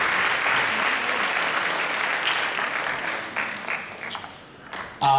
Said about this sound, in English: And just a round of applause for all of you for being here